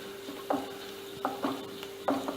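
Cut chilies and onions sauté toward golden brown in a pan for Chettinad chicken gravy, a low sizzle broken by several spatula scrapes at irregular intervals.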